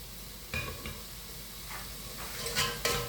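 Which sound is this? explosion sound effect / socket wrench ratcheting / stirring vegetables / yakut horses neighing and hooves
stirring vegetables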